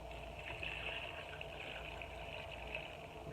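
Liquid pours into a blender while sweet cherry vinegar is being made, a steady faint gushing and trickling wash that runs the whole time with no voices.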